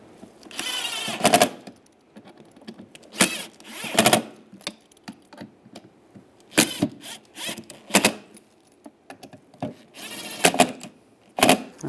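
Screws being driven into the center console hinge of a 2007-2013 Chevy Silverado, heard as bursts of mechanical clicking and ratcheting scattered through light handling noise.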